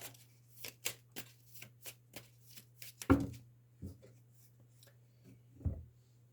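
Tarot cards shuffled by hand, a quick series of crisp riffling flicks and taps, a few louder knocks as the deck is squared, close and fairly quiet with a low steady hum underneath and no talking.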